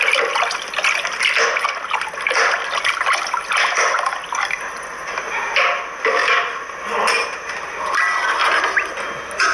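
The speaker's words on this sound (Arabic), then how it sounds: "بعد ما داب البصل مليح دوكا نلوح الماء ونخليه يطيب على راحته" Water poured into a pot of softened onions while cooking rechta, a steady splashing and gurgling pour with uneven surges, fairly close and without talk.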